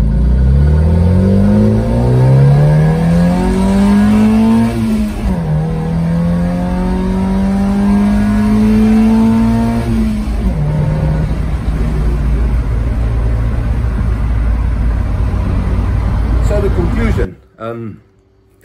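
Fitted with a Weber 32/36 DGV carburetor, a car engine revs hard and climbs through two long pulls close by, then drops sharply at the end.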